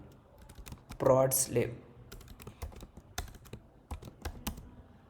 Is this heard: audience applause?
no